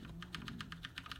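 Keys clicking on a Ducky One keyboard, about a dozen quick, evenly spaced taps close to the microphone, crisp and light over a low background hum, no talking.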